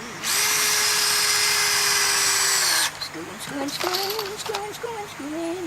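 A power drill drives screws into the wood of a rotted picnic table, opening with one long, loud, steady whir and then giving way to a few short bursts. A voice hums and sings between the runs.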